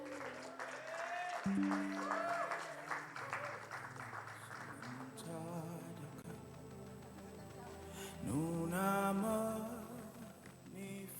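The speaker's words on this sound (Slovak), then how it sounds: "Zatleskajme mu." An audience at a youth conference applauds in a hall, with clapping mixed among spoken voices and a loud swell near the end.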